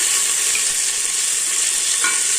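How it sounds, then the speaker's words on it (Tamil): Onions and tomatoes sauté in a pan for fenugreek rice, giving a steady, close hiss of frying with faint stirring scrapes throughout, no voices. "வெங்காயம் போட்டுக்கலாங்க நல்லா வதக்கிக்கலாம்"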